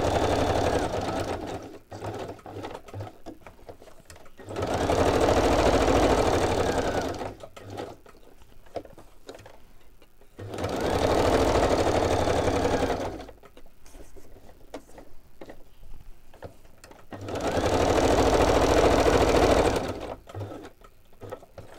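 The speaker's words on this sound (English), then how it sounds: "I'm going to stitch around this, and then I'll glue it down." A sewing machine stitches around fabric pieces from a craft kit in three steady whirring bursts of several seconds each. Each burst is loud and close, separated by quieter gaps of handling noise.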